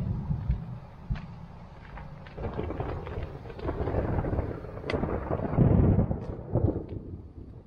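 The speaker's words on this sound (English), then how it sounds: "It's the edge of a storm here" Deep thunder rumbles roll on through a storm heard from inside a Sierra Designs Full Moon tent while camping, with steady rain and gusts of wind buffeting the microphone.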